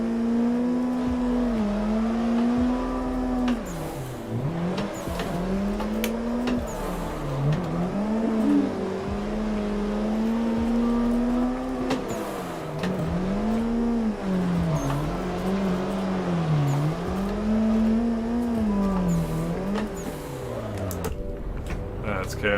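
Drifting cars in Assetto Corsa during an online tandem session roar continuously, engine pitch swooping up and down in repeated revving waves over about twenty seconds, loud and close.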